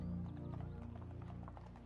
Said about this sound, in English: of a horse carriage in the distance